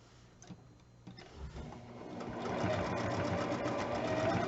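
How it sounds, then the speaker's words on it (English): A sewing machine stitches fabric panels together with a quarter-inch seam. It begins with a few hesitant clicks and short bursts, then settles into a steady, fast mechanical whirring that grows louder and runs continuously to the end. "now we're going to start sewing our panels together. And we're going to sew these with a 1/4 inch seam allowance."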